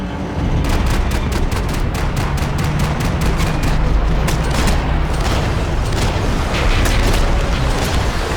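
Rapid, sustained gunfire rattles through a Max Payne 3 firefight, dense bursts of shots rolling continuously with heavy booming low end, loud and close with no voices over it.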